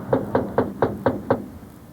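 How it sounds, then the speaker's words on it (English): Six even knocks land on the door of a house in Vadnais Heights, spaced about a quarter second apart, each one firm and close, with no voices. "No one responded when we knocked on the door of David Turek's Vadnais Heights home."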